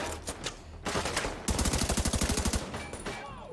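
Rapid bursts of automatic gunfire in the video game The Division 2 while enemies are picked off: a short volley, then a sustained string of evenly spaced shots at close range, loud and dominant.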